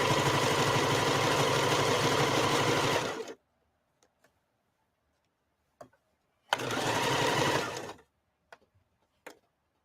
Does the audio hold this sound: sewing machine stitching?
yes